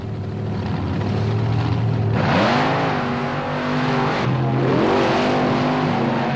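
A tough-running Chevrolet race car roars past on the beach course at Wildwood, New Jersey, its engine note climbing and falling through hard revving, loud and continuous, with other cars blending into the drone.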